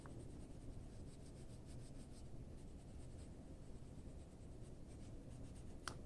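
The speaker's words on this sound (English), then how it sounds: "just play with your own colored pencils back and forth until you get the shade you want" Colored pencil strokes rasp back and forth across paper in a steady, continuous scratchy rub while shading part of a Cinderella illustration, close and fairly quiet with no talking.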